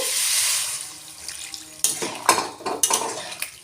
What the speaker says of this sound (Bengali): আরও দু মিনিট নেড়ে নিয়ে এর মধ্যে জল দিয়ে দেব